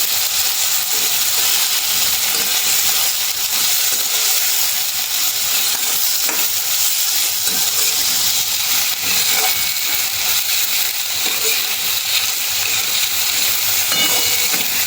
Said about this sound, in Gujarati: આપણે હાઈ ફ્લેમ ઉપર ફ્રાય કરી દઈશું।